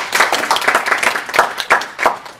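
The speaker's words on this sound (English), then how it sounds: "Let's give a little preliminary applause." Brief round of audience applause at a lecture, a small group clapping in quick, uneven bursts for a couple of seconds, close and fairly loud.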